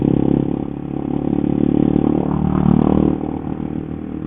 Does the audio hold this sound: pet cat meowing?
no